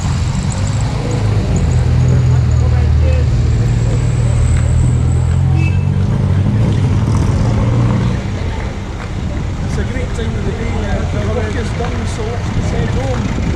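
Classic car engines rumble and grumble as the vehicles pull away from a classic car show, a loud low drone that eases slightly toward the end, with traffic noise around.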